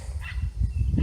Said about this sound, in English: Crazy dog barking down the street.